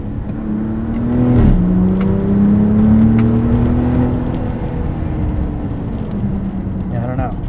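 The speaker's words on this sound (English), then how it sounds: "Let's open that back window. See if we can hear it a little bit better." A 2025 Ram RHO engine heard from inside the cab through an open back window, a rising rev to a steady drone, then easing off, with a voice speaking partway through.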